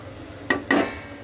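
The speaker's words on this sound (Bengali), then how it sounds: "তো চলো এখন এটাকে 2-3 মিনিট একটু হালকা সুন্দর করে ভেজে নিই" Taro greens with jackfruit seeds and shrimp frying in a pan, giving two short bursts of sizzling and stirring close by, with quiet between them.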